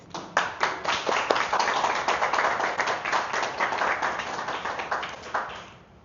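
Audience applause for a guest at a talk on contemporary dance, steady clapping from many hands filling about six seconds before tapering off at the end.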